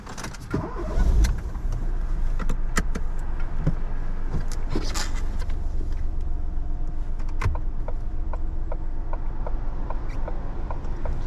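A car starts and pulls away at the start of a mock driving test in Mill Hill, with engine hum heard from inside the cabin, a few clicks and soft ticking of the indicator, and no talk.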